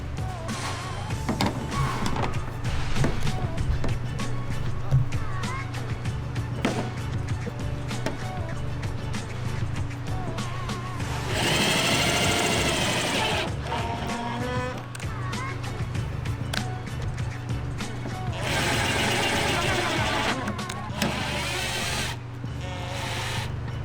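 A power driver runs self-tapping screws into the plastic of an OEM Subaru STI rear wing, giving whirring bursts over a steady background hum with a longer sustained run in the middle.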